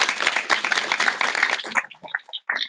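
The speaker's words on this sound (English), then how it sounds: "So please extend a round of applause for Henry Farrell and Abe Newman." An audience at a keynote address on world politics claps steadily for a couple of seconds, the applause dense and close before thinning into a few scattered claps near the end.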